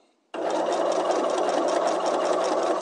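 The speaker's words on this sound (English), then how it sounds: "So I'll put my foot down and continue stitching." A sewing machine stitches a fabric corner, its motor starting abruptly and running in one continuous, close, even whir for a few seconds with no talk.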